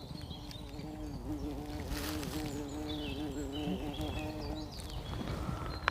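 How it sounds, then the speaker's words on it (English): A close, steady bee buzz with a wavering pitch, droning continuously against soft outdoor background noise. "I always just say that bees get bigger every single year."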